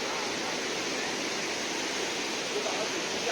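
Duduma waterfall roars as a steady, dense wash of rushing water, loud and unbroken for the whole stretch.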